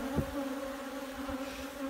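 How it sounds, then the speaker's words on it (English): Angry honeybees buzz around a beekeeper's protective suit, a steady close drone with harmonic hum, a few bees bumping near the microphone throughout. "They just keep running into my suit, trying to sting me."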